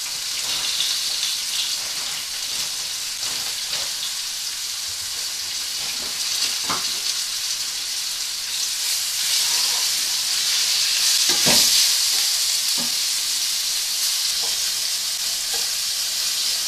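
Floured steak pieces sizzle as they brown in hot oil in a pan, a steady close crackling hiss that swells slightly midway, with occasional sharp pops.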